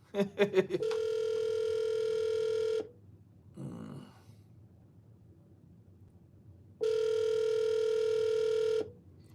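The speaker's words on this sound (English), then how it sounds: "Let me give Arville a call, man" An outgoing phone call rings back through the line: a few dialing tones, then two long, steady electronic ring tones separated by a quiet gap with a faint voice.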